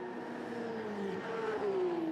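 Race cars at Yas Marina Circuit, including two Toyota 86s, battling for the lead, their engines droning steadily with a rising and falling pitch as the cars pass by, growing louder toward the end.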